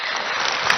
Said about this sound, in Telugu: వెస్ట్ గోదావరి డిస్టిక్ వాళ్ళు అందరూ క్లాప్స్ కొట్టండి